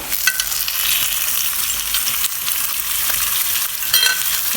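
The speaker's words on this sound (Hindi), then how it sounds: "कीमे को हम इस ऑयल में 2 से 3 मिनट तक अच्छा सा फ्राई कर लेंगे।" Steady, dense sizzle of minced meat frying in hot oil, loud and close, with occasional stirring scrapes and no voices.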